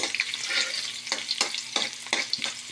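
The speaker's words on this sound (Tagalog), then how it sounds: "Gisa muna tayo ng loya." Garlic sautéing in a pan, a close bright sizzle broken by a rhythmic series of sharp spatula scrapes and taps roughly every third of a second, no talking.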